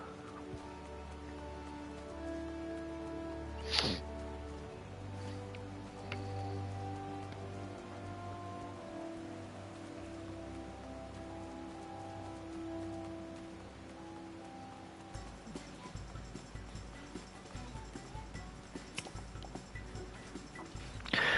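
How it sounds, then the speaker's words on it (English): Rain falls steadily in the Final Fantasy XIV game world, a soft continuous patter under quiet ambient game tones, with one sharp brief sound early on and a thin ticking texture toward the end, no talk. "I'm actually surprised at how long that it's been raining in the area."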